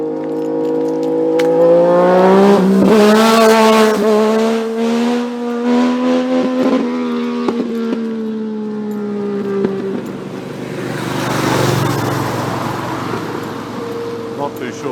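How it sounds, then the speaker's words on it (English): A motorcycle revs hard as it passes along a road, pulling a wheelie. The engine note climbs through several rising gear pulls before it fades, with a second whoosh of passing traffic near the end. "Here comes a motorcycle."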